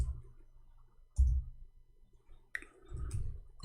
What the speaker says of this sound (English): Okay, finally our keyboard working fine.